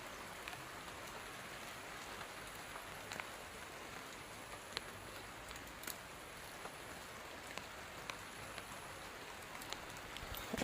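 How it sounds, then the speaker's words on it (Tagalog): Heavy rain pours steadily on a mountain, a dense, unbroken hiss of drops on surrounding surfaces with occasional sharper spatters and no talking. "mababasa talaga tayo nito kasi malakas ang ulan"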